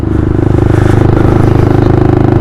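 A Lexmoto 125cc motorcycle engine chugs loudly and close up in a fast, even pulsing rhythm, a steady throbbing rumble with light mechanical clatter that runs unbroken throughout.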